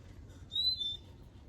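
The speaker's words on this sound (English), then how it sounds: "Can you hear the birds?" A single short, clear whistled call from a wild bird near a garden bird feeder, rising sharply and fading within half a second against a quiet outdoor background.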